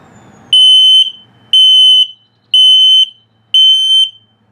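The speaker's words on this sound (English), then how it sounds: "I'm going to set it off, put it through the self-test here." An RV's combined LP gas and carbon monoxide detector sounds during its self-test in a 2021 Starcraft Autumn Ridge 26BH travel trailer, producing four loud, evenly spaced shrill electronic beeps of about half a second each, alone.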